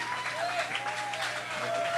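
An audience at a hip-hop and poetry event claps steadily, a dense continuous patter of many hands, with a sustained tone running faintly underneath.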